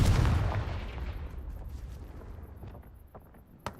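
A Confringo spell explosion in Hogwarts Legacy lands as a loud, deep boom at the start and fades into a long rumbling decay, ending with a small sharp crack.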